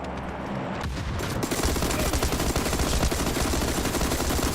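Rapid video game gunfire from automatic weapons rattles loudly and continuously in bursts, filling the whole stretch with dense, overlapping shots and no speech.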